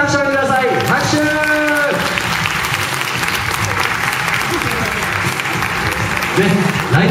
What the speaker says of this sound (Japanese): それではこのお二人にもう一度皆さん大きな拍手をください。